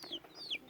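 Chickens cluck softly nearby, with a couple of higher chirping calls over the brief, quiet clip.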